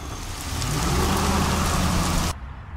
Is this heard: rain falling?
yes